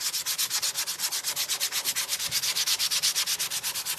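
Fine-grit sandpaper rubs lightly over a painted Santa figure in quick, even back-and-forth strokes, a close, steady rhythmic scratching with no voices.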